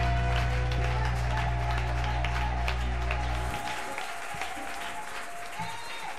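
A church congregation applauds and cheers for Jesus during a worship service, steady loud clapping filling the room with a sustained organ-like tone underneath that drops out midway while the applause continues.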